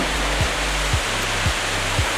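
Whitewater rapids of the lower Niagara River below the falls, just above the whirpool, a steady, loud broadband roar of rushing water with faint low rhythmic thumps recurring beneath.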